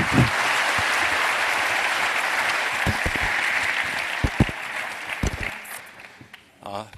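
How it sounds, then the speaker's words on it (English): A warm round of audience applause in a conference talk hall, dense and steady with a few sharper nearby claps, tapering off before a speaker starts talking at the end. "please join me in giving them a warm round of applause"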